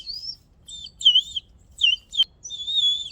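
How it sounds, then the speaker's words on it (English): Shrill warbling toy bird whistle, tweeting in short bursts with brief pauses between, close and fairly loud against a quiet background. "I want you guys to see his cute little bird whistle."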